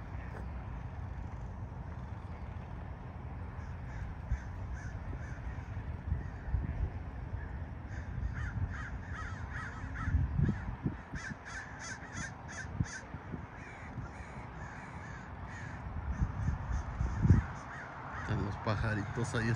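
Crows caw repeatedly from a group of birds perched outdoors near fruit trees on a family walk, their harsh calls coming in irregular bursts over a steady outdoor background, with people's voices and footsteps nearby.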